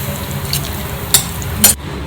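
A spoon stirs paneer capsicum gravy in a pan, with a couple of brief scraping knocks over a soft, steady sizzle.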